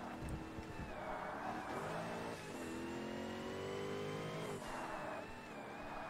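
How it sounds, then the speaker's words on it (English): A race car engine in the Forza Motorsport video game revs and shifts through gears, rising and falling in pitch over several seconds, moderately quiet with no speech. "that car's catching up"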